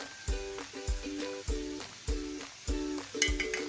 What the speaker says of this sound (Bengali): দেখুন এটা কষতে থাকছে এই যে আদা রসুন বা পেস্ট আছে